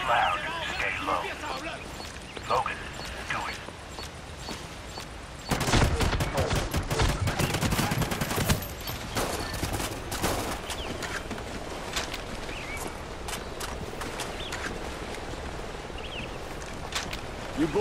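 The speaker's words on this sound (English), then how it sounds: "Gunfire." Bursts of rapid gunfire crackle amid a busy battle soundscape in Call of Duty: Ghosts, loudest in a dense volley partway through, with scattered shots and voices around it.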